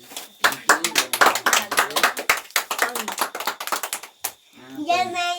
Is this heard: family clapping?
yes